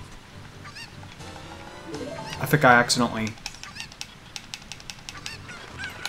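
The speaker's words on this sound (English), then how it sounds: "I thought I was going to lose the chicken there for a second." Chicken in a Zelda Ocarina of Time randomizer game letting out a short burst of loud honking clucks midway, with game sound effects and someone speaking briefly.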